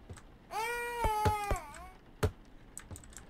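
Toy kitten meowing in the horror game The Baby In Yellow: a single drawn-out, tonal mew rising and falling over about a second and a half, followed by scattered clicks and taps nearby.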